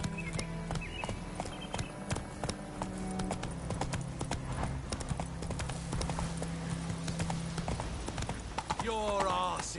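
Roach, a horse in The Witcher 3 video game, clip-clops along at a steady pace over a low rumble of game music and ambience. A voice cuts in near the end.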